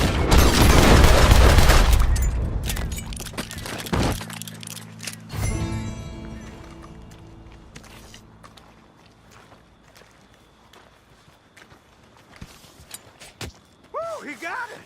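Gunshots while hunting a lion in Red Dead Redemption 2: a loud, booming volley opens, then scattered sharp shots and crackles fade into quieter ambience, with voices heard at points.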